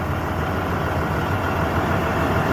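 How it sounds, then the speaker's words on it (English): A truck engine idles steadily with a low, continuous rumble, close by and alone, with no voices. "that engine sounds real good"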